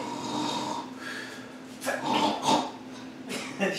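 A sleeping dog snores in a quiet kitchen, a few slow, rough breaths rising and falling close by, with no talk over it.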